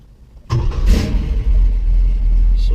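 A 1970 Chevrolet Nova engine cranks and catches just after a new ignition cylinder is installed, with a sharp start burst followed by a deep, rumbling idle that holds steady and close, alone without voices.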